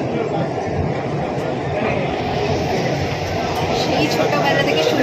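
Kolkata's underwater metro train runs along its short stretch between Esplanade and Howrah Maidan, a steady loud rumble of the carriage in motion with a faint high whine above, continuous throughout and heard from inside the car.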